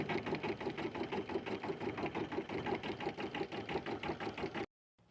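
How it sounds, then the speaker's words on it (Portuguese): An embroidery machine stitches a bear-shaped kitchen towel hanger with a loud, close, steady rapid pulsing of the needle that runs without pause, then cuts off abruptly just before the end. "Eu vou deixar a máquina bordando e já eu volto."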